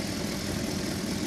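A car with an exhaust leak idles with a low, continuous rumbling drone, close and steady, with no talk over it.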